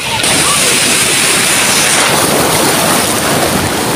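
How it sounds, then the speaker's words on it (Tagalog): Loud, roaring surf crashes continuously on a beach at sunset, dense and close, with heavy wind buffeting the microphone throughout. "Lakas ng alon"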